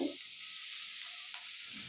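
A quiet, constant hissing sizzle of spices frying in hot oil, steady and unbroken, with a faint clink near the end.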